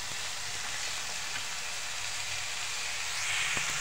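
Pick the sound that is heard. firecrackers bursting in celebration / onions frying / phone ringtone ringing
onions frying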